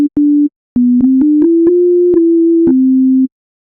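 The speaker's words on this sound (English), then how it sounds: "Now what we have here is a very basic sine wave oscillator." Basic sine wave oscillator in the Surge XT synthesizer playing a series of clean pure tones, short notes then a longer sustained one gliding slightly in pitch, loud and alone with no talk.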